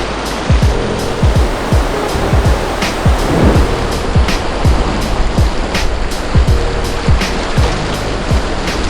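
Surf washes in continuously at Cox's Bazar beach with repeated low thumps of waves breaking close by, a steady roar of water with no voices.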